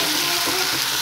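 Onion and tomato for Maggi noodles sizzle steadily in hot oil in a pan, a dense, continuous frying hiss with no talk, filling the short moment close and loud.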